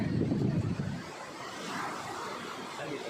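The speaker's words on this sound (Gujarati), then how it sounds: "મોજા મસ્તના છે." Sea waves at a beach with murky water wash in, a loud surge of surf at first that settles into a steady, softer rush of water and wind noise.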